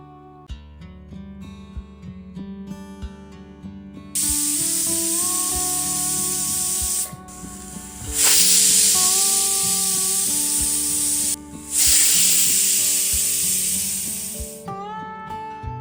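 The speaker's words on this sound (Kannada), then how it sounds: "ಕುಕ್ಕರನ್ನು ಮುಚ್ಚಿ ಮೂರು ವಿಷಲ್ ಆಗೋವರೆಗೂ ಇದನ್ನು ಕುಗ್ಸಿ" A pressure cooker cooking drumstick and lentil soup releases three long, loud bursts of hissing steam, separated by short gaps, over continuous background music.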